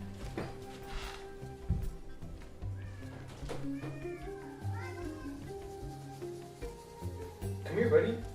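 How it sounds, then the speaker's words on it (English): A pet cat meows a few times indoors, its short calls mixed with background game or music sounds and a little speech. "We heard something meowing."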